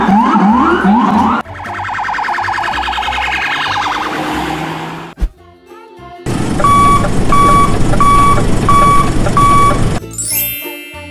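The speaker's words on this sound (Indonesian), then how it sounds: "Sirine itu akan menyala jika berada dalam keadaan darurat." Emergency vehicle siren wailing loudly alone, with several changing siren patterns one after another, including a rapid electronic yelp and a steady repeating tone, ending in a rising sweep.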